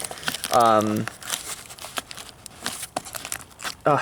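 Cardboard and plastic packaging of a Jurassic World Tyrannosaurus rex toy figure being ripped and crinkled in short bursts, close up, with a voice talking in between.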